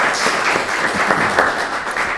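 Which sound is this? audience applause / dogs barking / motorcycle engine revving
audience applause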